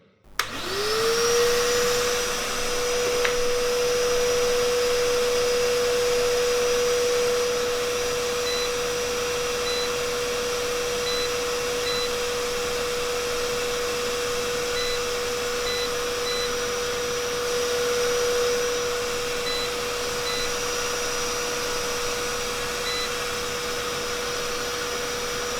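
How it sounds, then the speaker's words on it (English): A Hoover vacuum cleaner runs from an off-grid Voltacon solar inverter charger with Pylontech batteries, starting abruptly and rising quickly to a loud steady whine that holds unbroken for over twenty seconds, with no talk. "In the next step, we are going to power up a Hoover."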